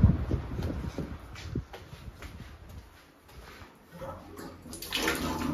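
Water gushes and splashes from a borewell pump outlet outdoors, a steady rushing flow that builds louder toward the end, with faint wind noise.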